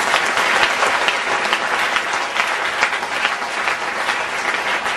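A church congregation gives sustained, dense applause in praise of Jesus at a consecration service, loud and continuous throughout with no pause.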